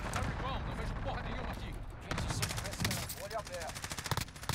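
Call of Duty Warzone gameplay with rapid bursts of gunfire and automatic weapon fire crackling throughout, mixed with players talking over the shooting.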